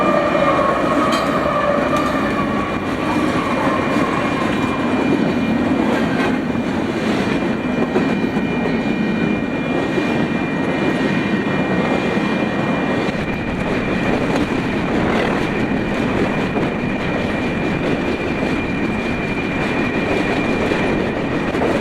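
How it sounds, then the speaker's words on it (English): A Union Pacific freight train led by locomotive UP 6247 rolls past at around 40 to 50 mph, a loud steady rumble of wheels and cars with clattering and faint squeals running unbroken throughout. "After two frontrunners, ZDVSC rolled on through doing about 40 to 50 miles an hour"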